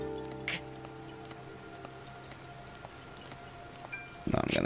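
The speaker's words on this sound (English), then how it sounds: "Can I even climb up this now when it's raining?" Steady rain patters on surfaces in the video game Zelda: Tears of the Kingdom, a soft even hiss with scattered droplet ticks, ending with a brief louder burst.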